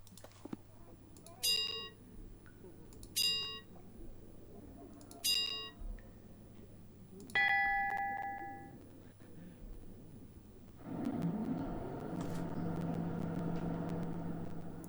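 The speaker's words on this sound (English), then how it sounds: "3 short bells and then a long one." Three short bell rings in the Sherlock Holmes: The Awakened Remastered Edition video game come evenly spaced, then a longer sustained ring follows, and a low rumble comes in afterward.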